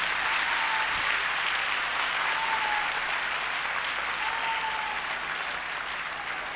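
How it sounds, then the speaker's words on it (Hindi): A large crowd in a legislative assembly claps loudly and continuously, sustained applause filling the room without a break. "एक बार जोरदार तालियां पूरा सदन बजाए।"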